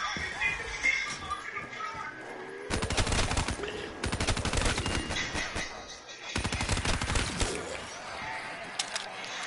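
Rapid bursts of gunfire from a weapon in a zombies-mode shooter game, loud dense volleys arriving in two main stretches, with someone talking over and between the shots.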